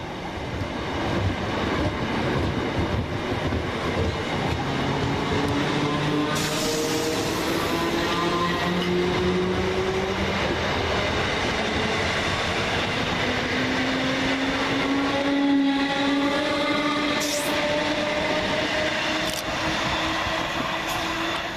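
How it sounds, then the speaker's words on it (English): Southern Railway class 455 electric multiple units pull away from Anerley station, a steady rumbling roar with rising motor whine tones and wheel noise, close and loud throughout with no talking. "we see 455812 and 455817 depart, with the 12:36 Southern Railway service from East Croydon to London"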